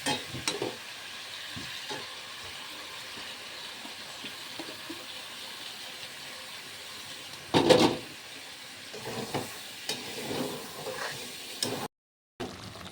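Chicken curry with spices and sour yogurt sizzles steadily in a pan on a gas stove, with occasional stirring scrapes and a louder burst midway; no talking.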